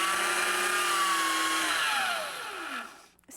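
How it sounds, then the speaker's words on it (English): A large belt sander runs loud and steady with a tacky art-gum cleaning eraser pressed against the moving belt, the motor pitch sagging as the eraser loads it before the machine winds down and stops near the end. "I got myself a big belt sander eraser"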